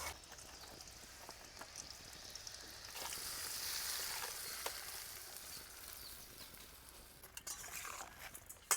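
Wet garlic crackles and spatters in hot oil while frying for a quick raw mango pickle, a steady bright sizzle that swells louder midway, with sharp pops near the end.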